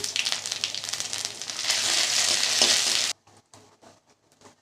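Dry red chillies, bay leaves, crushed ginger and white cumin sizzle loudly in hot oil for a dal tempering, a dense steady frying hiss that cuts off abruptly, leaving faint kitchen clatter.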